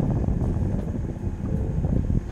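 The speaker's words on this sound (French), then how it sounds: "Là d'ailleurs, c'est du vent de sud, faible" Low steady rumble of a light southerly wind buffeting the microphone on a sailing cruise, a soft continuous gusty noise with no voices.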